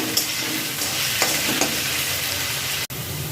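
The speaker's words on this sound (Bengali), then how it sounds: "আলুগুলোকে আমি ভালো করে ভেজে নেব" Potatoes fry steadily in mustard oil with a dense, close sizzle, broken by a few light knocks from a stirring utensil, with no talking.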